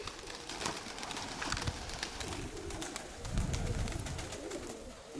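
Pigeons coo in low, soft, repeated calls against a steady outdoor background, with a few louder coos standing out close by and no talk.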